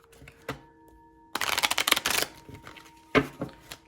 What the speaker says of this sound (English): I'm going to shuffle this about 3 more times.